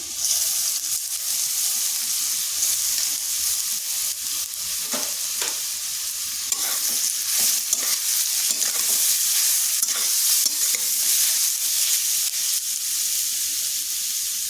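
Radish pieces fry with already browned potatoes in a pan for a vegetarian Bengali dish, giving a continuous bright sizzle broken by the scrape and rustle of stirring throughout.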